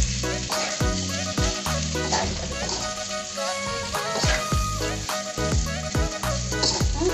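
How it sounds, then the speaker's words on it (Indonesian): Chicken livers and gizzards fry in spices while a spatula turns them, giving a constant loud sizzle cut by rhythmic scrapes and knocks against the pan, close up. "Kita aduk-aduk dulu sampai semua atinya ini ya, ampelanya ini terbalut sama bumbunya."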